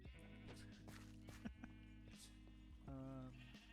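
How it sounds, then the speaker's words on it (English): Minecraft sheep bleating several times in quick succession, faint and close together, with a rhythmic low hum underneath. "you can probably hear the sheep"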